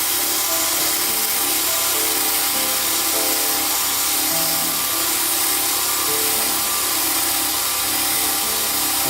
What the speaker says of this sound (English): I'm trying to see if I can just sand that out.